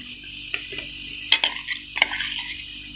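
Crushed green chilli, ginger and garlic go into a hot pan for a Kerala beef curry, landing with a few sharp metallic clinks and scrapes of a spoon against the pan over a quiet background.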